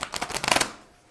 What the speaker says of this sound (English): see if I can shuffle these better.